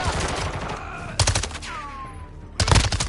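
Gunfire rings out in Call of Duty in three sharp automatic bursts separated by brief pauses, close and loud, with a falling whistle-like tone between them.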